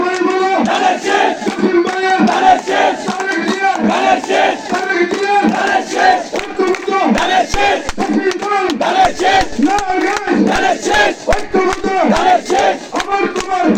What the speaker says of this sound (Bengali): আমি একটা স্লোগান দিয়ে আমার বক্তব্য শেষ করছি